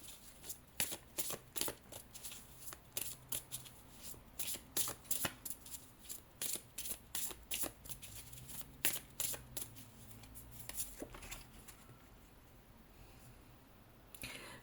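Divination cards shuffled in repeated quick riffling bursts, close and crisp, with short pauses between, fading out near the end.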